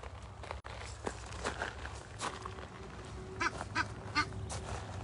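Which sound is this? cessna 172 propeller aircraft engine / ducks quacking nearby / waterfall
ducks quacking nearby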